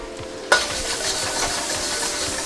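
Crispy beef chow fun hitting a very hot wok with a sudden loud burst of sizzling, then a steady close frying hiss with stirring and scraping throughout.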